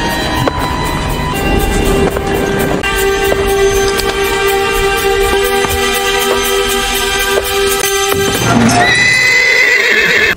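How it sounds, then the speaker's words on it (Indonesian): A horse that has escaped its stable whinnies loudly and repeatedly at close range, with a long tonal neigh, hoof clatter and a sharper outburst near the end. "Dikira apa, Margaret pun heran saat melihat kuda milik sepupunya yang bernama Esther terlepas dari kandang."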